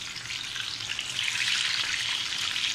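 KFC-style fried chicken sizzles steadily in a pan of hot oil, a dense, close crackling hiss that runs unbroken throughout with no voices over it.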